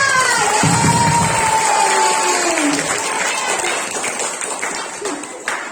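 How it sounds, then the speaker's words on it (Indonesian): Children at a school performance applaud and cheer loudly, a dense crowd roar with clapping and shouts filling the first part, then thinning slightly as a whistle-like voice and scattered shouts continue. "Tepuk tangan yang meriah untuk Kak Bimo."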